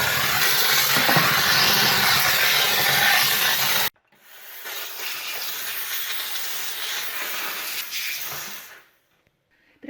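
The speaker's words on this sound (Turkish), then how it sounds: "Önce buhar vererek yumuşatalım." A household steam cleaner blasts steam onto greasy surfaces to soften the grease, giving a loud hiss that cuts off sharply, then resumes slightly softer for about five seconds before tailing off into near silence.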